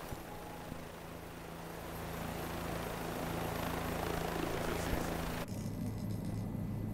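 Helicopter rotor and engine drone inside the Microsoft Flight Simulator 2020 game, a steady broadband whir with low tonal hum that swells slightly and then shifts character near the end.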